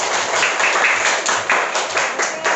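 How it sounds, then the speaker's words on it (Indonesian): A group claps together in brisk, uneven applause, nearby and fairly loud, lasting a couple of seconds. "Oke, tepuk tangan untuk kita semua"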